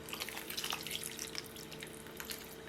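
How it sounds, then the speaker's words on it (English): About a cup of water goes into a pot of mixed vegetable and paneer curry with cauliflower florets, a soft, continuous pouring and splashing, quiet and close, with no talking. "Add about 1 cup of water."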